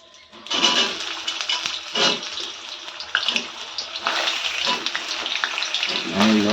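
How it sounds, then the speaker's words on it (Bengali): Potatoes are lowered into hot oil, setting off bursts of loud, bubbling sizzle that come in waves as each batch goes in and settle into a steady crackling fry. "হ্যাঁ, অবশ্যই তেলটা আমার গরম হয়ে গেছে। এবার আমি আলুগুলোকে আস্তে আস্তে ছেড়ে দেবো।"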